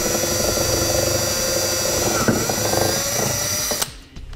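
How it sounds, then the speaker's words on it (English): A power drill boring a 1/4 inch hole whines steadily at high speed for several seconds, then winds down and stops near the end. "Now let's go ahead and drill a 1/4 inch hole right here"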